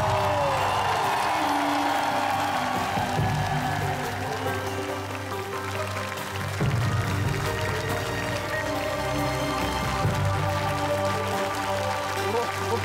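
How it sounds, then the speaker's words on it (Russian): A crowd clapping and cheering steadily throughout a Russian televised masked singing show, dense applause layered over sustained musical tones and a loud, busy room. "Ваши аплодисменты."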